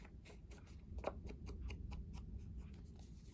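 Scissors trimming the scruffy edge off a piece of paper for a junk journal, a soft series of close, quiet snips and rustles in a hushed room.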